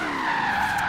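Supercharged 2012 Cadillac Escalade ESV drifting in Forza Horizon 3, a brief loud tire squeal with engine drone underneath, sustained and close.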